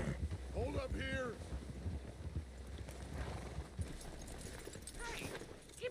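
Horse hooves clip-clop along a trail in Red Dead Redemption 2, several horses moving together under wind noise, with a brief neigh and a voice heard early on.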